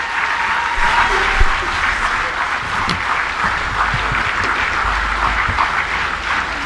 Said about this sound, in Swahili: Bado tuongeze tena makofi mengi kwa Mheshimiwa Rais.